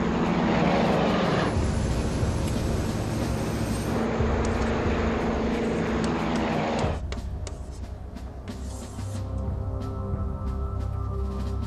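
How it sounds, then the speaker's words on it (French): An ATR-42 turboprop airliner roars loudly through its takeoff run, a dense steady engine and propeller drone that eases after about seven seconds into a thinner, fluttering hum with scattered clicks. "L'ATR-42 décolle moins de 3 minutes après sa mise en route"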